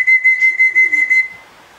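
A person whistles a single high steady pitch in short repeated bursts, about eight quick loud chirps in a brisk rhythm at a pigeon loft, then trailing off into quiet.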